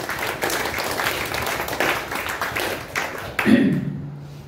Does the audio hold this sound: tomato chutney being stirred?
no